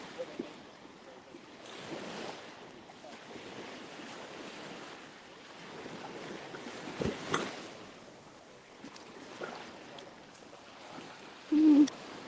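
Ocean surf rolling onto Vanderbilt Beach, a steady broadband wash with gentle swells and some wind buffeting on the microphone, continuous and moderately loud with a brief thump near the end.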